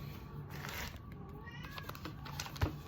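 A pet cat meows once or twice at modest volume over quiet room noise, with a sharp brief knock near the end and no speech.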